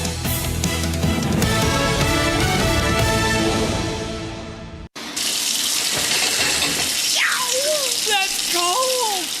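Shower water runs steadily in a plumbing company radio advert, a continuous hiss of spray that follows a music-backed segment after a brief dropout, with a few faint chirp-like tones over it.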